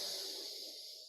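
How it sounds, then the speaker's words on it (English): A slow, deep breath drawn in, a soft airy hiss that fades gradually over about a second, close and quiet, followed by a tiny click at the end. "Let's take another deep breath in"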